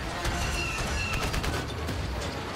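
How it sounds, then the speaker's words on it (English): Sustained video game gunfire rattles continuously from multiple shooters, dense overlapping shots and bursts at steady loudness throughout, with no pauses. "everyone's shooting at me"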